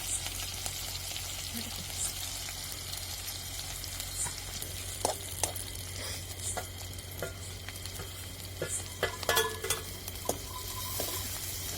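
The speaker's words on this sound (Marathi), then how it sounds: "आता आपण मिरच्या ते सगळं टाकून आणि चांगलं परतून पण घेतलेलं आहे" Garlic, cumin and green chillies frying in oil in a pan, a low hissing sizzle with intermittent utensil taps and scrapes against the vessel, fairly faint and steady.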